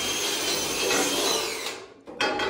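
A power drill bores into metal in a garage during race car chassis work, whirring steadily and close before cutting off, then a short second burst follows.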